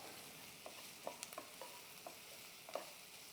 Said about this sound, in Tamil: ஸோ நல்லா வெங்காயம் வணங்க விடலாம்.